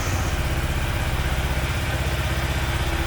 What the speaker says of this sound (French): Maintenant on va tout simplement démarrer la moto.